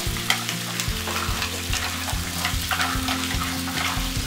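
Almonds fry in a pan with chili and ginger, a steady close sizzle broken by regular scraping stirs, with no voices.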